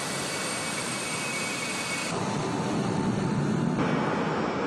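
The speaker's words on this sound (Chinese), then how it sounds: "随着8架空军的运输机穿鹰夺雾安全抵达武汉天河机场" Steady, loud roar of an air force transport aircraft at Wuhan Tianhe Airport, a continuous broadband engine rush with no pauses and no voices.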